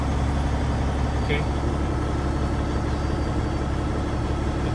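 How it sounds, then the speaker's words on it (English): A brand-new 2019 Peterbilt truck idles after starting, its heavy diesel engine a steady, loud, low rumble throughout, with someone briefly speaking over it. "I mean, the truck started."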